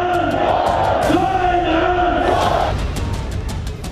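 A large street crowd in Pakistan chanting slogans against Imran Khan, a loud massed roar of voices with a sustained chanted line rising above the din, continuous and close.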